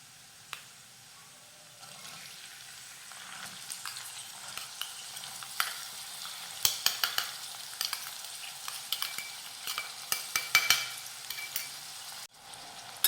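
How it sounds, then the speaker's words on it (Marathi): Two finely chopped medium onions sauté in oil with garlic. A soft sizzle steadily builds after a couple of seconds, with scattered sharp stirring scrapes and clicks up close and no talking. "आता हा कांदा हलक्या गुलाबी रंगावर परतून घेऊयात"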